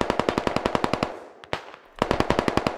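Rapid machine-gun bursts in the tactical shooter Squad, a steady string of sharp shots, a short pause with one lone report, then the burst resumes, loud and close with no voices over it.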